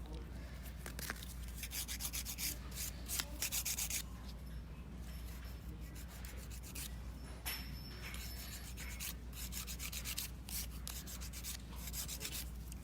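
A nail drill with a medium carbide bit files dip-powder nails with tip extensions continuously, with a faint, low whirring hum and soft intermittent scraping, close and quiet, with no talking.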